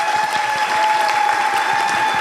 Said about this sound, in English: can we have a big round of applause for Mary and Claire?